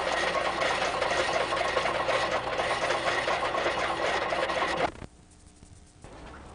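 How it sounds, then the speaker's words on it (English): Exhaust from two homemade prime mover engines in a hydro-electric setup, a steady rough churning drone for about five seconds that then cuts to near quiet. "This is the exhaust from my two prime movers, which go up to this tank."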